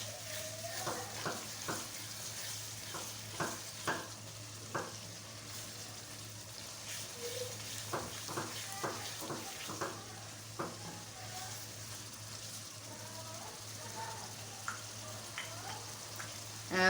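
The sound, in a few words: frying and stirring mutton keema with spices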